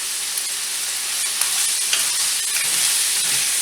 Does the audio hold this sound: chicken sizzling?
yes